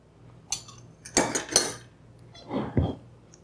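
Spoon stirring ingredients including sugar and salted butter in a kitchen pot, a few close metallic clinks and scrapes in two short bursts, no talking.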